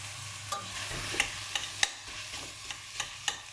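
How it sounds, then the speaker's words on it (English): Beef mince cooking with onions in a pan, a faint low sizzle under repeated scraping stirs and mashing knocks, close and quiet with no talk. "you're just going to keep on mixing it like this and just mushing it up"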